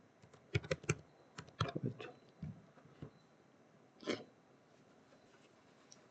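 Typing on a computer keyboard while searching for Python in Visual Studio Code, with bursts of quick, close key clicks separated by short pauses and one isolated cluster of taps later on.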